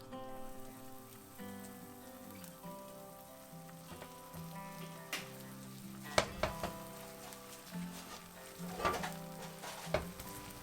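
Buttered bread for grilled cheese fries in a non-stick pan, giving a steady soft sizzle with a few sharper crackles and pan clinks, all under quiet background music.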